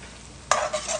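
Fresh minced garlic and red pepper flakes hit hot olive oil in a pan for mushroom pasta, bursting into a loud, bright sizzle halfway through after a quiet start, then hissing on steadily.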